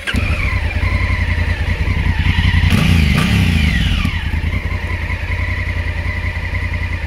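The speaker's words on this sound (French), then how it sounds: "un moteur qui a un son agréable" A 2019 Honda CRF1000L Africa Twin Adventure Sports motorcycle engine runs loudly and steadily, with a low rumbling idle, a brief rev midway, then settling back to a constant drone.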